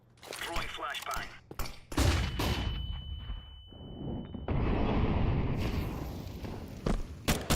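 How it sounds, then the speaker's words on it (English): In Counter-Strike 2, a flashbang grenade goes off with a loud bang, then a steady high ringing tone holds for about two seconds. Gunfire bursts and footsteps sound around it. "Throwing flashbang."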